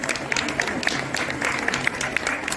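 People gathered for a Teachers' Day event honouring a yoga guru clap continuously, a dense patter of many hands with individual claps standing out, moderately close.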